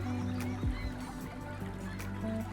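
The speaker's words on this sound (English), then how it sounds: "The air was filled with the sound of seabirds that flew over the waters." Waterfowl such as geese or seabirds honk and call over the water, several nasal cries rising above a steady low rumble that sounds like a boat engine, all at moderate distance.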